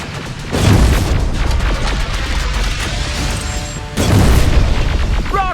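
Rocket blasts in the Terminator Resistance video game: a loud, dense rumble of explosions sustains throughout, with two heavy booming impacts, one near the start and a second later on.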